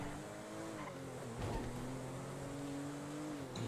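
A motorbike engine in a video game drones steadily at a distance, its pitch wavering and rising slightly in a continuous rumble with a brief surge partway through.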